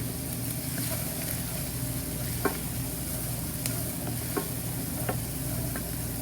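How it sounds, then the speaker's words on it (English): Food sizzles steadily in hot oil, a constant crackling hiss with occasional sharper pops, close and without any talking. "You can hear that nice sizzle."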